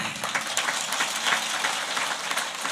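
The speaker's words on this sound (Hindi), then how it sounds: "अरे ताली बजाओ तो जोर से बजाया करो थोड़ी।" Clapping from a seated audience at a Bhagwat Katha religious discourse, a continuous patter of many hands at moderate volume, slightly uneven and fairly close.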